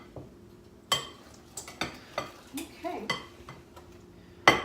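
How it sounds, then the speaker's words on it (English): Flour and hot water being stirred into pizza dough in a bowl, with a run of knocking and scraping strokes at an uneven rhythm; someone briefly speaks. "Now we're going to stir this around to make it a great big ball of dough."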